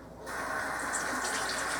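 Tap water pours steadily into a crock pot bowl, a continuous rushing fill that starts softly and swells to a full, even gush, heard close with no talking.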